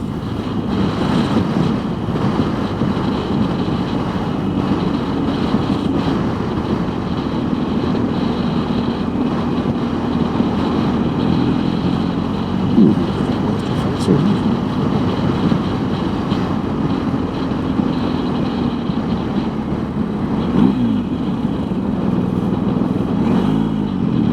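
A motorcycle engine drones steadily while riding between Settle and Hawes, with heavy wind buffeting the microphone and a few brief shifts in engine pitch.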